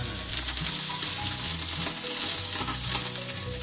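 Chicken pieces laid skin-side down in a pan of shallow hot oil, sizzling and crackling loudly and steadily throughout with no talking.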